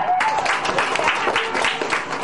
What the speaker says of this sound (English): And applauded along with the crowds in Washington, D.C. as Barack Obama became President Barack Obama.